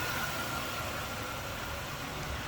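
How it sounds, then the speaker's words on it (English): A steady, even idle of a 2003 Chevrolet Monte Carlo SS's 3800 V6 engine hums close by, low and continuous with no revving, filling the whole stretch. "Nice, clean, tidy engine bay. That 3800 V6."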